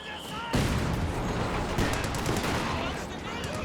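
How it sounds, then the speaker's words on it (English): Sustained machine-gun fire in Company of Heroes 2 begins abruptly after a half-second and continues as a dense, steady rattle with overlapping battle noise to the end. "now Stefan going for a machine gun"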